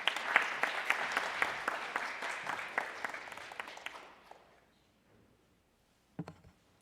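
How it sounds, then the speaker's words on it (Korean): Applause from the audience at the opening ceremony of the Gwangju children and youth council fills the room, a steady patter of many hands that fades out after about four seconds, followed by near silence and a brief bump. "큰 박수 부탁드립니다"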